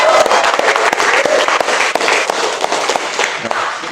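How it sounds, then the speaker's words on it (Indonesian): Students in a classroom break into dense, continuous clapping that fills the room, loud and close, with sharp hand strikes layered over one another and no pause. "Tepuk tangan untuk kalian semua."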